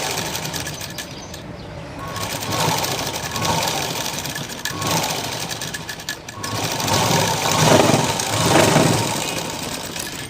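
Sewing machine stitching a belt joint on a garment front, a steady close mechanical whir with a fast stitching patter that speeds up and eases off several times.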